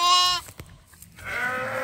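Sheep-farm ewe and lambs bleating, one clear high-pitched bleat up close, a short pause with faint knocks, then a longer, rougher bleat, with no talk over them.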